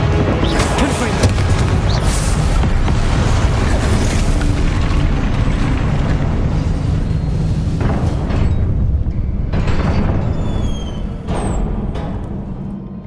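Confringo blasting curses boom continuously in Hogwarts Legacy combat, a loud, dense roar of explosions with several sharper bursts and whooshing streaks toward the end.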